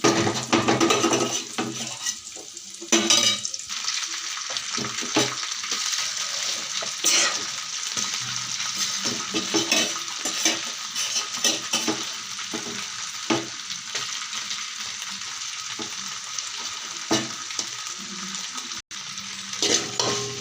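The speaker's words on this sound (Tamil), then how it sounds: "கேரட் நல்லா வதக்கி விட்டுக்கிறேன்." Carrots for a South Indian khichdi sauté in a hot pan, with a steady close sizzle and repeated scraping strokes from a spatula stirring throughout, without speech.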